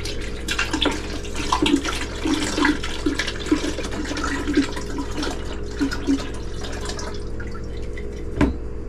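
Liquid poured into a container while making vanilla extract, with irregular splashes and drips over a steady background and a sharp knock near the end.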